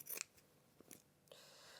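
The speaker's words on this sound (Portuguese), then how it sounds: "podemos sempre recortar com a tesoura de zigue-zague" Zigzag pinking scissors cut thin fabric for a baby nest, giving a few crisp snips and blade closes, separated by short pauses and fairly close.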